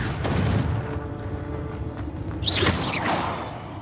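Confringo blasting spell from Hogwarts Legacy fired in the video game: a deep booming impact with a rumbling tail, followed by a bright whooshing crackle of the spell effect, moderately loud and close, no talk.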